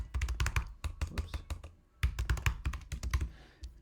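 Rapid typing on a computer keyboard, close and crisp, with two bursts of quick key clicks split by a brief pause, no voices over it.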